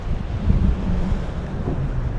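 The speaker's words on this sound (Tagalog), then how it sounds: "ang lakas ng hangin" Strong wind roars steadily and buffets the microphone, a continuous low rumble with a faint wash like surf underneath.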